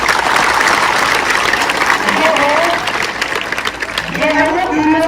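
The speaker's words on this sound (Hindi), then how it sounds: "ताली बजाएंगे सब लोग।" A crowd of school children claps loudly and energetically at a grand meetup, with the rapid clapping running throughout and young voices calling out over it in the second half.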